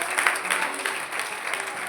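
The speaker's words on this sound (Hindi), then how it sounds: "जोरदार ताली रणजीत सिंह जी के लिए" Loud, steady applause from an audience at a Shrimad Bhagavat Katha religious gathering, welcoming an arriving guest; dense clapping fills the whole stretch without a break.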